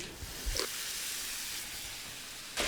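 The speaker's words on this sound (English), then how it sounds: "The beef is frying away." Steady, close sizzling and hissing of minced beef frying in a non-stick pan, with a few soft clinks and stirring bumps.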